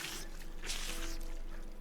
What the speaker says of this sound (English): Fill that up in one of our water sources here.